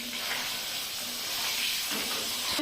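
Eggs fry in hot oil for an egg and chicken biriyani, giving a steady, close sizzling hiss that swells slightly toward the end, with no one speaking.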